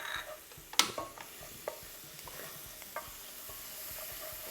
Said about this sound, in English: I'm going in with some garlic,